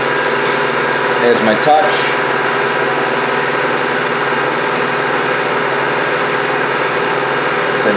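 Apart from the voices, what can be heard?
milling machine running while making T-nuts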